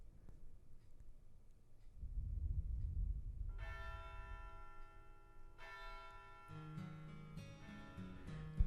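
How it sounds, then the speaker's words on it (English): Tintagel's bell of pilgrimage tolls in the Fate/Grand Order game world, several resonant bell strikes ringing out one after another over a low rumbling backdrop, sustained tones overlapping and fading with a fairly distant feel. "Tintagel's bell of pilgrimage, which I've been hearing constantly for 16 years, rings in the distance."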